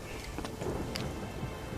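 A thunderstorm in the video game Witcher 3 fills the clip with steady heavy rain and low rumbling, dense and continuous, with no voices.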